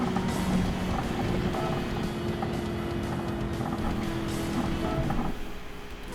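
A race car in Gran Turismo 7 laps the Nürburgring Nordschleife, its engine roaring steadily at high revs with a faint tire squeal, then dropping off sharply near the end.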